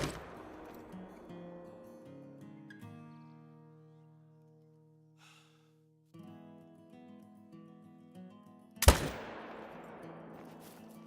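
A single sharp, loud rifle shot cracks out near the end during a red deer stag hunt, standing out suddenly against quiet tonal sounds that come before it.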